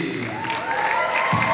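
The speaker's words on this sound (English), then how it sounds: "Let us give a round of applause." Audience cheering and whooping at a live community event, a loud swelling roar of voices from a crowd, steady and close for the whole moment.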